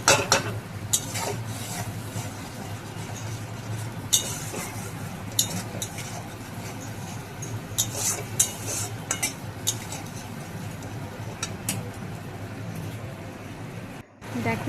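A mustard spice paste with salt and turmeric is stirred in a pan for a pomfret fish dish: repeated scraping strokes and metallic clinks of a utensil over a low sizzle, close by.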